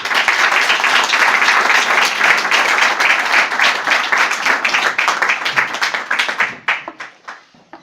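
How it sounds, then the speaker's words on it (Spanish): An audience bursts into loud, sustained applause, many hands clapping together before it thins out into a few scattered claps and stops. "Pues lo vamos a recibir con un aplauso."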